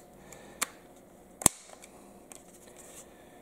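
Snap caps being loaded into PSA AKV magazines for a CZ Scorpion Evo 3 S1 on a tabletop give a few sharp, isolated metallic clicks and snaps, two standing out clearly against a quiet room.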